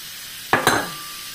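Cooking oil in a pan gives a brief, loud sizzle burst as it is stirred, two quick hissing swells that fade within a fraction of a second.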